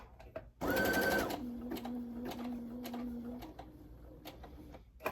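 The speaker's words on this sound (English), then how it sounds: "you just sewed a button on using your sewing machine" A sewing machine stitches a button onto fabric, a short loud whirring burst followed by a steadier mechanical hum with light ticking clicks, close and alone in a quiet room.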